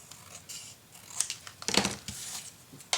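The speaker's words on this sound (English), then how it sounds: "And now I can cut the rest off." Scissors cutting through paper while trimming pieces for a St Tropez scrapbook mini album, a few short crisp snips and a cluster of close paper-cutting crunches near the middle, heard alone without talk.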